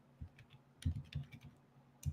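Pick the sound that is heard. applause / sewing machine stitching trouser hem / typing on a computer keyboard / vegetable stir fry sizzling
typing on a computer keyboard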